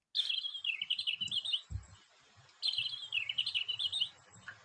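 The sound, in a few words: blackbird song, Turdus merula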